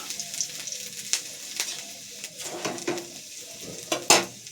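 Ginger frying in a hot pan sizzles and crackles close up, with sharp intermittent pops and light scraping of a utensil against the pan, alone without speech.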